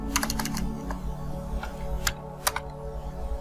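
Router configuration commands typed on a computer keyboard, a steady run of close, crisp key presses with a few louder strikes, no voices.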